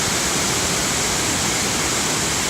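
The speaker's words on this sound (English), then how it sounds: "This is a smaller waterfalls" A smaller waterfall at Ban Gioc in Cao Bang pours in a dense, steady roar of falling water, loud and unbroken, with no voices.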